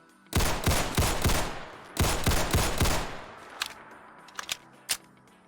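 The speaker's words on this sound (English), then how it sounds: "And finally, the TT Tokarev." A TT Tokarev pistol fires in a modded Fallout 4 (Combined Arms Modern Weapons pack): two loud runs of quick, sharp shots, then a few scattered single shots that grow quieter.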